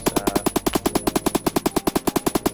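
A light machine gun with a 200-round magazine loaded with armor-piercing rounds fires in the video game Phantom Forces, a loud, steady automatic burst of about twenty evenly spaced shots over a couple of seconds, heard alone.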